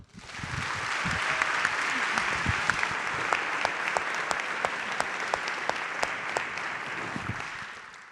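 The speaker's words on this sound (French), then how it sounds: "Merci d'applaudir Adèle Yon et Laurie Lofer." Steady applause from a seated audience welcoming two authors onto a stage for a talk on women and madness, dense and continuous with a few sharper claps standing out, fading slightly near the end.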